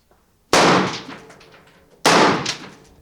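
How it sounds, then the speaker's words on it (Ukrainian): Rifles fire first shots at a civilian training session run by the Azov unit. Two loud, sharp cracks about a second and a half apart each trail off in a long echo. "І ось після ретельного інструктажу учні роблять перші постріли."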